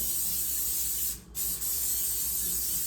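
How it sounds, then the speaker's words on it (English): Non-stick cooking spray hisses from an aerosol can into a slow cooker in a long continuous burst, with a brief pause, then a short second spray, close up. "we're going to spray our slow cooker with non-stick cooking spray"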